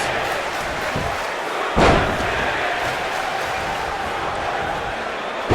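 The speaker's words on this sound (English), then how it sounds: "He slams him down with authority." In the WWE 2K19 wrestling video game, a wrestler is slammed down in the ring with one heavy thud over steady arena crowd noise.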